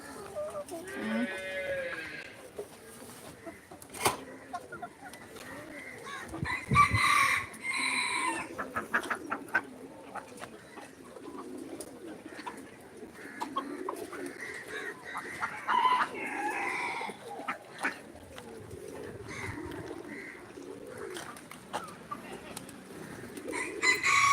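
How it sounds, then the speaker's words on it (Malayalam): Kadaknath black hens on a farm, clucking and calling among other fowl, with a rooster-like crow early on; a steady mix of nearby bird calls runs throughout with no talking. "കരിങ്കോഴീനെ നമ്മൾ വിട്ടിട്ടില്ല കരിങ്കോഴീനെ വിടാനുണ്ട്"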